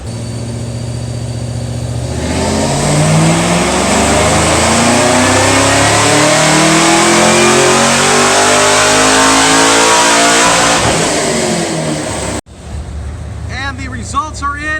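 A car engine strapped to a chassis dyno with the hood shut revs up in one long, loud climb through the gears, its pitch rising steadily, then cuts off abruptly into idle as voices talk faintly.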